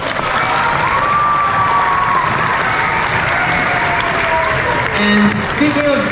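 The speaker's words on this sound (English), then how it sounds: "Round of applause for our string instruments." An orchestra concert audience in Santa Rosa gives loud, sustained applause for the string players, with scattered cheers and crowd voices mixed into the clapping throughout.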